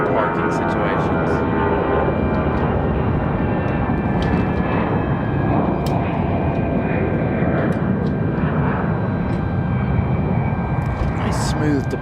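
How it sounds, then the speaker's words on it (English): A Delta airliner departing from Raleigh-Durham International at night makes a loud, continuous engine roar that holds steady throughout, with someone talking over it. "Nice smooth departure for Delta."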